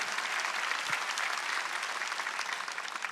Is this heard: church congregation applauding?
yes